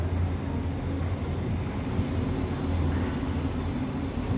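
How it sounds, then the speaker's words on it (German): An S-Bahn commuter train pulling into a German station, a steady loud rumble of wheels and motors with a faint high whine, heard alone. "Und da kommt schon die nächste S-Bahn."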